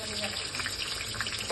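Water pouring steadily into a pressure cooker holding mung dal, a continuous close splashing rush without pause.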